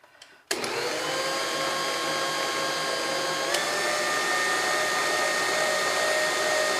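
An electric mixer whirs steadily at high speed, starting abruptly and holding a constant close drone as it beats madeleine cookie batter with browned butter being poured in.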